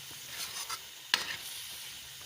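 Beef liver cooking with masala in a pan gives a soft, faint sizzle with light stirring scrapes and one sharp clink of a utensil against the pan.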